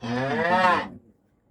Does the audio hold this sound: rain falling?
no